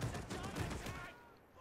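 Tank gun firing in the World War II game Gates of Hell: Ostfront during the defense of Fort Pilastrino, Libya 1941, a heavy booming blast with rumbling echo that fades out, with game noise and voices underneath.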